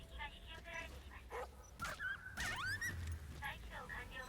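A dog in the video game Metal Gear Survive barks and yips in short bursts, some whimpering and whining rising in pitch, moderately loud amid game sounds.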